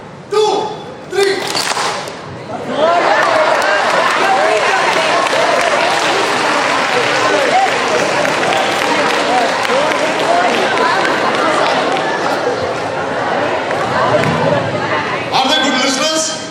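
Large audience clapping together in a hall during a group exercise, dense sustained applause lasting several seconds with a brief burst at the start and thumping near the end.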